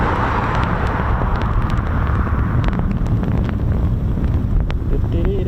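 Strong wind buffets an outdoor microphone on an extremely windy bank holiday at RAF Coningsby, giving a constant loud rumble and roar with faint clicks scattered throughout.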